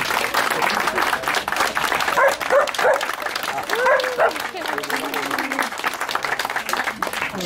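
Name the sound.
audience applause for the bakery team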